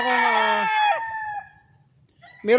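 A gamefowl rooster, a sweater broodstag, crows once close by, a loud drawn-out call that falls off near the end, followed by quiet background and a brief new sound at the close.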